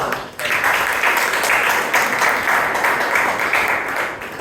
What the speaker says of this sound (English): Let's give a loud round of applause